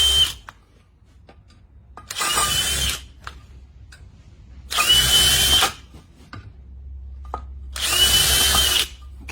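A power drill pre-drills holes for glass railing anchors through a base shoe attached to a bracket, with three separate loud bursts of whirring drilling, each lasting about a second and a half, separated by quiet pauses with faint handling.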